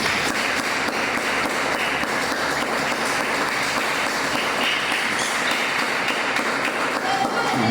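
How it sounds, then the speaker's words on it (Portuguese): Congregation applauding during a church service, a steady dense patter of clapping that fills the whole span at moderate level, with a low rumble beneath and no clear speech over it. "Aplaude a Jesus."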